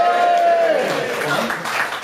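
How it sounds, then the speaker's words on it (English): A comedy-show audience cheers and claps in response to a prompt about loving football, with a loud burst of mixed shouting and applause that gradually thins out, alongside faint crowd voices. "give me a cheer if you like or love football"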